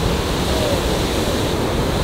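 Ocean surf washes in a steady, broad roar of breaking water and rushing foam, loud and close, with no pauses and no voices.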